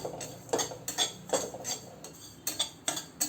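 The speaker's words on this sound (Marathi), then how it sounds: "म्हणून आपण सतत असा चमचा पूर्ण फिरवत राहायचा." A spoon is kept moving around a pan of poppy seeds dry-roasting for dinkache ladoo, giving a steady run of close, crisp scraping ticks and clinks with short pauses between strokes and no talk.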